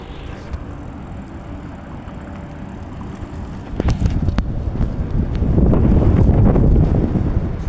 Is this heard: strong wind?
yes